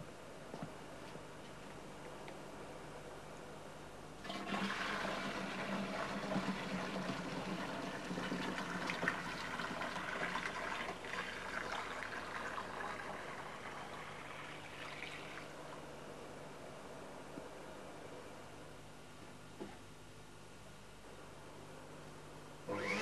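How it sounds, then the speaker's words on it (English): A steady wet hiss and whoosh of a wet and dry upholstery vacuum machine, filled with low-foam detergent and water, runs at close range, starting abruptly and then easing slightly before tailing off. "apply the wet and dry vacuum using the special machine"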